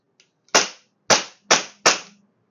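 A pink toy cap gun fires four sharp, loud shots close by, spaced about half a second apart after a faint click.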